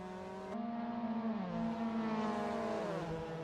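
Mazda MX-5 Cup race cars lapping Harris Hill Raceway, a steady engine drone whose pitch shifts and bends through gear changes, fairly close and continuous without voices.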